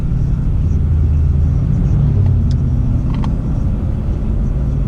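Low, steady engine rumble from a 2015-2017 Ford Mustang GT idling and creeping in traffic, heard from inside the car as a continuous droning hum with faint higher clicks over it.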